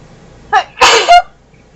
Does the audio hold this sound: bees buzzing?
no